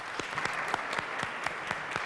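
Applause from an awards-ceremony audience, a steady patter of many hands clapping with a few sharper individual claps standing out, sustained evenly throughout.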